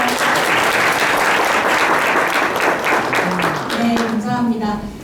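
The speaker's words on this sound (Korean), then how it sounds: "박수 부탁드릴게요" Applause from a packed audience at a startup forum event, dense and loud clapping throughout that fades slightly toward the end as a voice begins speaking over it.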